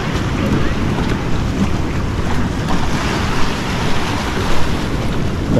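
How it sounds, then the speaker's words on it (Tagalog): Continuous rush of surf and churning water with heavy wind buffeting the microphone, loud and unbroken throughout. "Ayun o, maampas, lumalakas."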